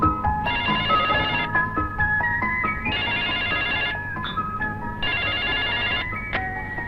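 A telephone rings in repeated bursts, three long electronic ringing phrases with short gaps, set against a dramatic film score.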